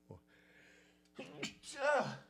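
A single sneeze bursts out after a short inhaled buildup, followed by some vocal noise.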